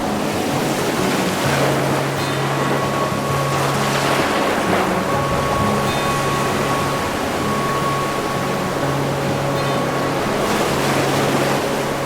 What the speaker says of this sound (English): the frothy green waves of the sea